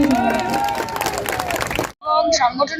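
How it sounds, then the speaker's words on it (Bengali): Crowd applauding at a political rally in Bangla-speaking West Bengal, a dense wash of clapping and cheering that fills the scene, briefly cut off, then returning with a voice speaking over it. "তাই আপনাদের জন্য একটা জোরে হাততালি নিজেরা দিন"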